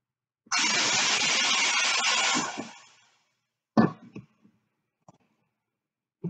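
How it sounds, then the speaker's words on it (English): A pressure pot used for clear resin casting vents with a loud, steady hiss of escaping air for about two seconds before tapering off, followed by a few sharp metallic clanks and small knocks from the pot. "It may be a little bit loud because I'm going to vent off the pressure pot."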